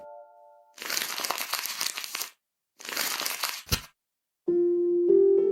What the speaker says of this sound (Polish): wyjęła list z koperty